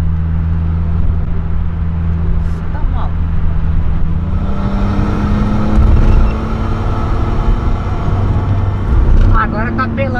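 A car engine revs hard at high rpm in a racing video game, a steady droning roar that climbs in pitch as it accelerates, with people talking over it throughout.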